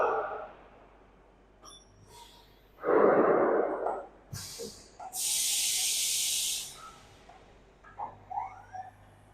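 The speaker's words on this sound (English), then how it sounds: "उसका tool change हो रहा है." Automatic tool change on a Taiwanese Hartford HCMC-15 vertical machining centre: sharp pneumatic air hisses, a short burst followed by a longer, higher steady blast, with scattered mechanical clicks and clunks between them.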